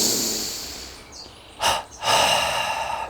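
Double breathing kriya pranayama: a long airy exhale through the mouth, then two sharp quick inhales through the nose, and another forceful breath, close and alone without speech.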